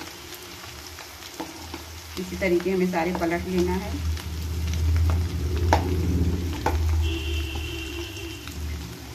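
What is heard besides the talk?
potato samosa rolls frying in oil on medium flame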